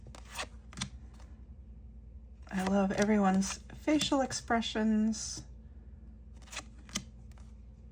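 A tarot card deck being shuffled, producing quick papery riffles and soft snaps spread across the clip, close and moderately loud, with someone talking through the middle section.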